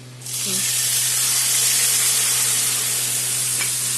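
Ginger garlic paste and spices hit a hot pan beside fried fish for a fish curry, setting off a loud, steady sizzling hiss that holds for several seconds after a sudden start. No talking.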